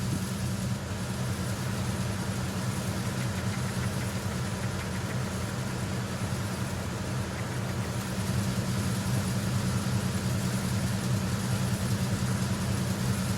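A steady low engine drone from the engine room of the Big Shell in Metal Gear Solid 2: Sons of Liberty, a constant rumbling hum with no break.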